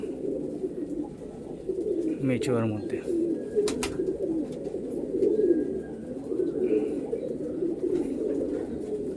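A flock of pigeons coos in a continuous low, throbbing chorus, with a voice talking over it and a couple of sharp clicks partway through.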